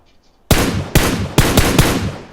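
Gunfire in the mobile battle royale game PUBG Mobile, a loud, close burst of rapid shots with several sharp cracks in quick succession, heard without talk.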